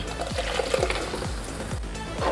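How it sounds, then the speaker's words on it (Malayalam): Ground coconut paste poured into a pan of fish curry, a thick wet gurgling pour with a run of soft repeated glugs, close and fairly quiet. "ഇതുപോലെ നമുക്ക് തേങ്ങ അരച്ചത് അങ്ങോട്ട് ഒഴിക്കാം."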